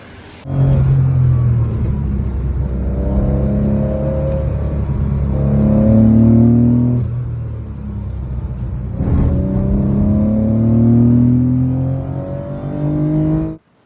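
A Ferrari-engined Alfa Romeo 105 revs up repeatedly, pitch climbing through the gears and easing off between pulls, loud and close from inside the car.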